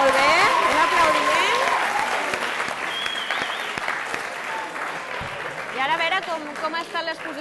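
Audience applause for student teams at a school quiz contest, loud clapping at the start that fades down, followed by talking and background voices with some remaining claps.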